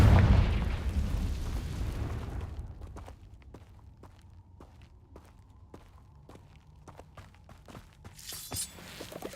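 A Confringo explosive spell goes off in Hogwarts Legacy with a loud, rumbling blast at the start that fades out. A series of light, regular footsteps follows, with another brief burst near the end.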